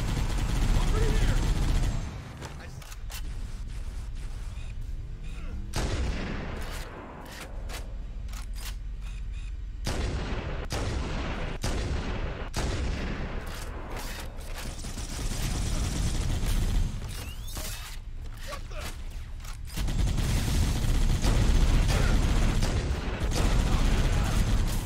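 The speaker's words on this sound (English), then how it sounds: "Heavy fire!" Heavy gunfire in Halo: Combat Evolved, dense bursts of shots and loud impacts crackling through most of the stretch, with players talking over the firefight.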